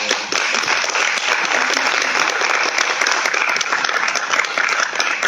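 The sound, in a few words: audience applause at roundtable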